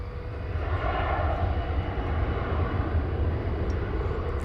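An airplane comes in to land at DFW Airport in North Texas, its steady engine roar broad and continuous, with no voices, filling the scene at a moderate distance.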